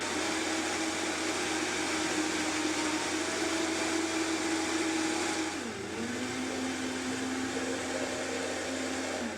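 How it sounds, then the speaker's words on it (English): A kitchen blender runs steadily for the whole stretch, a loud continuous whir whose motor pitch drops and shifts partway through as the load changes, with no talking. "there's one thing you don't do is put the spatula in while your blender is moving."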